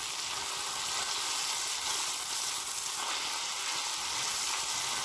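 Food frying in a pan in a home kitchen: a steady, dense sizzle and crackle, continuous and fairly close, with no talking.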